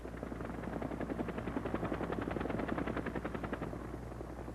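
Helicopter rotor blades turning on the ground near an aircraft, a steady rhythmic chopping pulse over a low engine drone, fairly close and continuous throughout.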